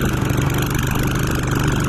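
Husqvarna AWD lawn mower engine running steadily close by in cold weather, a loud, even throb with no voices.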